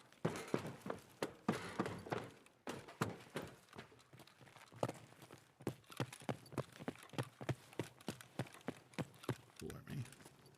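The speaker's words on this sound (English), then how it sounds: "Heard footsteps." Rhythmic footsteps in the shooter game Escape from Tarkov thud in a steady walking cadence, fairly faint, with a quick clatter of other game sounds at the start.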